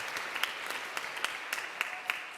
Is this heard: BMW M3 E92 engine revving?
no